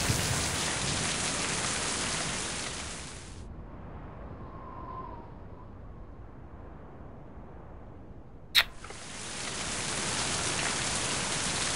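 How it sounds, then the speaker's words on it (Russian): Steady rain in the video game Mind: Path to Thalamus hisses loudly, then cuts out to a quiet stretch with one sharp click before the downpour returns just as strongly. "Создаем дождь."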